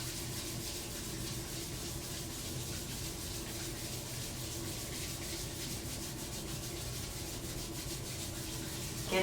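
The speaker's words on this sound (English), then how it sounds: "let's rub the palms together" A pair of palms rubs briskly together in a quiet yoga room, making a continuous, soft, even swishing friction that holds steady for several seconds.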